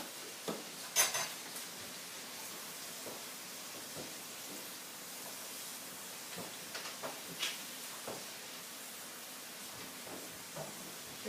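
Garlic and seasoning stirred in a pan, quiet scrapes and light clinks of a utensil against metal over a soft steady hiss, with no talking.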